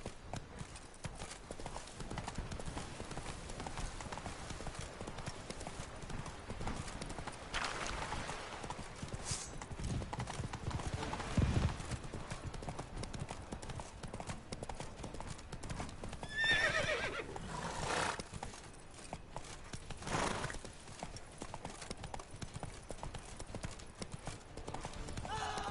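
Roach the horse in Witcher 3 clip-clopping steadily along, hooves close and fairly quiet, with occasional neighs and a voice speaking now and then over the hoofbeats.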